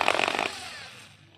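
A cheap electric drill is lightly throttled during a test in a shop, giving a short, rough buzzing whir that quickly winds down and fades out.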